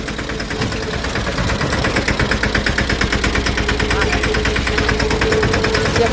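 A tractor engine runs close by in rural Gujarat, a loud, rough chugging idle with a steady rapid pulse that firms up after the first second and continues throughout without talk.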